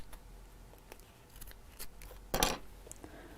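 Scissors trim away excess fabric from a sewn seam, a few faint snips followed by one louder, crisp cut close by, over quiet room tone.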